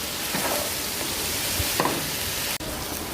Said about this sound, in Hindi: इस सब को शामिल करने के बाद हम इसे 8 से 10 मिनट के लिए फ्राई करेंगे।